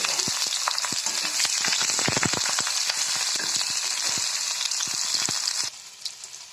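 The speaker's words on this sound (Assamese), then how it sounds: "আৰু এতিয়া মই পিঁয়াজ অলপমান ভাজি লওঁ।" Onions sizzle hard in hot mustard oil tempered with five-spice and dried red chillies, a dense, close hiss with scattered crackles and pops that drops off abruptly near the end.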